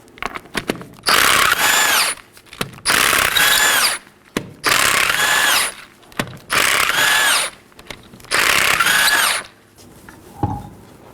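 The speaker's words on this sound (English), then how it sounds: "Let's go and remove our left front wheel." Power tool spinning off the 19mm lug nuts on a Chevrolet Equinox front wheel, five loud whirring bursts of about a second each with ratcheting clicks and short pauses between, close up.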